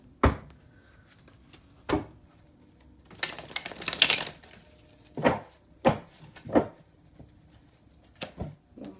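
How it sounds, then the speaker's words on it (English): A deck of tarot cards is shuffled by hand close up, with sharp separate clacks and taps spaced out and a longer papery riffle in the middle, all without speech. "One more shuffle."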